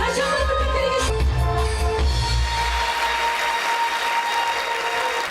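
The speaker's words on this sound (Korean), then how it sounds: "여러분들의 사랑의 박수 다시 한번 부탁드리겠습니다" Applause swells behind music at a stage event honouring the head of an arts troupe, a wash of clapping that grows denser and steadier toward the end.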